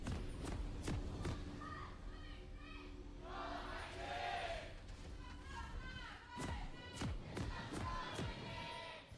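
An esports arena crowd at a 2019 LCK Spring Split League of Legends match between SANDBOX Gaming and SKT roars and cheers steadily, with sharp thumps of clapping or thundersticks and a voice talking over the din.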